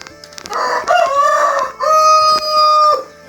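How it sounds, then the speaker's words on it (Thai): A rooster crows loudly and close by in a Lao village, giving two long drawn-out cock-a-doodle-doo calls with a short break between them and nothing else around. "เสียงไก่ขัน"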